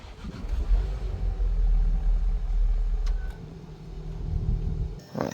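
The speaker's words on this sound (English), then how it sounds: "So let's start it up and listen to its roar." A car engine from a parts car in a project build, in neutral, turns over and settles into a deep, steady idle rumble. The sound is close and loud, with a brief sharp noise at the end and no talking.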